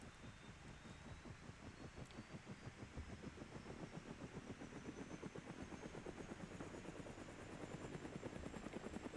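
Helicopter in the video game Brick Rigs, a steady rapid rotor chop with a faint rising engine whine, continuous and fairly close throughout, growing slightly louder, with no talking.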